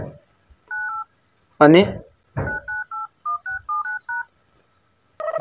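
Telephone keypad dialing tones, a run of short paired DTMF beeps in quick succession, close and clear, with brief speech between the keypresses.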